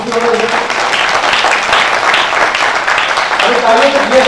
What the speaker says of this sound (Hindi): अरे तालियों में तो कंपटीशन हो रहा है।